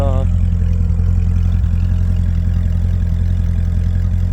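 A 2006 Chevrolet Corvette Z06 runs steadily with a deep, even engine rumble that stays loud and close throughout, and a brief voice is heard at the very start.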